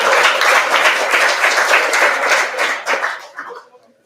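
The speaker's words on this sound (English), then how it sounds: "this is where everybody applauds" An audience applauding at a lecture introduction, a brisk burst of many hands clapping that holds steady, then tapers and dies away over the final second.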